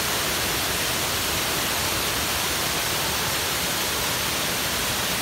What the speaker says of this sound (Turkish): Burada çok şahane bir doğal akan suda bir şelale ortam oluşmuş